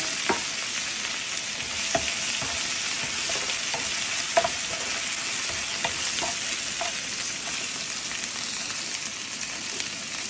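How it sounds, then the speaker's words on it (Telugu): Curry leaves, ginger garlic paste, coriander and green chillies fry together for cauliflower fried rice, giving a steady, close sizzle broken by light clicks of stirring, with no talk. "కరివేపాకు, జింజర్ గార్లిక్ పేస్ట్, కొంచెం కొత్తిమీర, గ్రీన్ చిల్లీస్ అన్నీ ఫ్రై చేసుకోవాలి."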